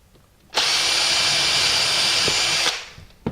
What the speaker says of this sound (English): you can pull it up tight at one end and then drill it